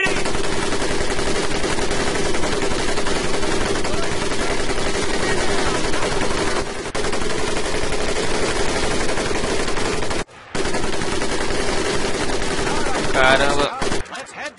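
A machine gun in Medal of Honor Pacific Assault hammers almost nonstop for about fourteen seconds, loud and close, with two brief pauses and a voice toward the end.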